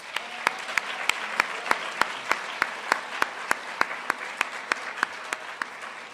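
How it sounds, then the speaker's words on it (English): Applause for graduating seniors at a Campbell County High School awards night: a steady wash of crowd clapping, moderately loud, with a regular rhythmic clap standing out on a fairly even beat throughout. "let's give all of our seniors one last round of applause"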